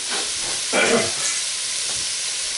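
Five garlic cloves hit hot oil in a pot while red beans and rice are being cooked, giving a steady close sizzle with a louder burst of crackling as they go in, then settling back to a hiss.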